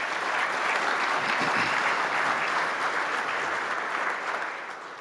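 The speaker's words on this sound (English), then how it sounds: "So how about a round of applause for the CSG Justice Center staff?" Sustained applause from a sizable summit audience, steady and dense throughout, fading slightly toward the end.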